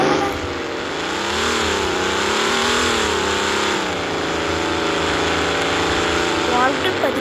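A new car drives through the Mansion Tycoon video game world, its steady engine hum rising and falling continuously throughout, with a voice talking over it.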